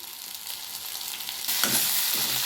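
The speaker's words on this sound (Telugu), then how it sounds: "కొత్త రకం వంకాయ ఫ్రై అయితే చేసుకుంటున్నాం" Brinjal fries in a pan with cumin and coriander, a steady hissing sizzle that grows louder halfway through as the pieces are stirred, close and without talk.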